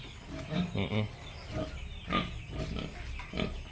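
A pig grunts and snorts at close range on a small farm where goats are also kept, with several short bursts spread across the clip over faint background murmur.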